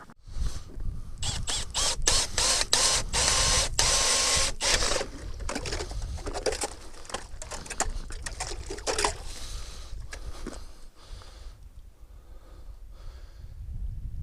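A hand or power ice auger bores through about three inches of first ice on a pond, giving a loud, steady grinding whir with rapid rhythmic scraping bursts that fade into quieter chipping near the end.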